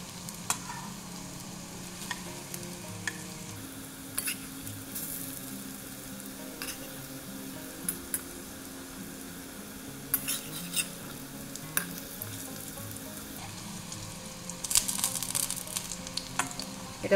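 Moong dal fritters fry in hot oil with a continuous soft sizzle, while a utensil turns them, giving intermittent scraping clicks and taps against the pan throughout, with no one speaking.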